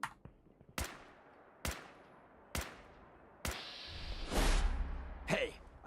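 Gunshots in Fallout 4 crack out one by one at roughly even intervals, four sharp loud reports followed by a louder burst of noisy rumble and another shot near the end.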